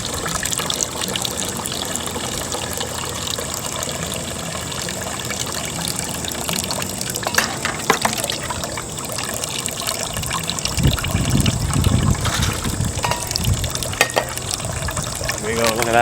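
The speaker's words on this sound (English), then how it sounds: "So while this is draining, I'm going to fill up some containers here." Fresh apple cider from an old orchard press pours and gushes into containers, a continuous close trickling and splashing flow that swells louder toward the end.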